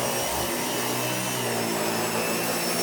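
A central vacuum cleaner with a 1997 nozzle and motor roars steadily and loudly without a break, its close, constant hiss and hum filling the whole stretch during a big mess cleaning test.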